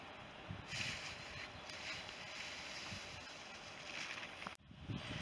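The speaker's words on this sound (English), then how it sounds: "The wind's blowing, but it's still pretty out here." Steady wind blows outdoors in a pine wood, a broad rushing roar with faint buffeting on the microphone that swells slightly and briefly cuts out near the end.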